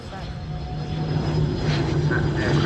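An aircraft engine drones steadily at the Farnborough Airshow, a loud, close, sustained roar that swells slightly and holds, with voices faintly mixed underneath.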